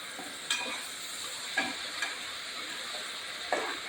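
Spices such as ground coriander and chili powder being stirred while frying in a pan for a vazhakkai curry, a steady soft sizzle with a few brief scraping clinks, no voices.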